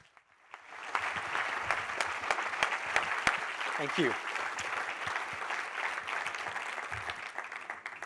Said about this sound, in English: I'd like you to welcome David with a big round of applause here on stage